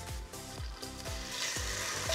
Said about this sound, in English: We wanna make sure our pan is hot enough so that when we put these in, they start to sizzle.